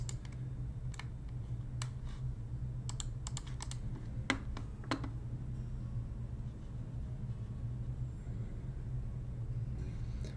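Typing on a mechanical keyboard gives scattered sharp key clicks with uneven pauses, heard over a steady low rumble, with no talking.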